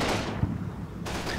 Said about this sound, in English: The tank behind us that we killed recently just finished cooking off its ammo.